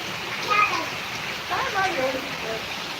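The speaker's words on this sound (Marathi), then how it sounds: "सगळीकडे पाऊस चालू आहे अतिवृष्टी होत आहे" Heavy rain falls steadily in Karnataka, a dense continuous hiss close by with faint splashing, and people talk over it.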